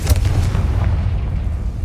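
A Confringo blast spell from Hogwarts Legacy goes off as a deep, booming burst with a sharp onset, then a rumbling low-end roar that sustains loudly for about two seconds with no voices.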